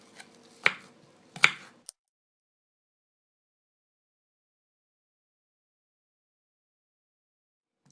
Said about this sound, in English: I'm going to slice these apples up.